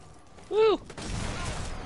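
Gunfire in the WWII sniper game Sniper Elite 4: a single brief rifle shot with a ringing tone, then rushing ambient noise. The level is moderate and no talk is heard.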